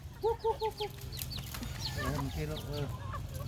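Several chickens on a farm cluck in short repeated bursts: a rapid series of four clucks near the start, then more scattered clucking. A steady low hum runs beneath throughout, and faint background noise is present, with no clear talk.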